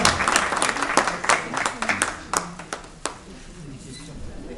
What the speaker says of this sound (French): Applaudissez pour elles, s'il vous plaît.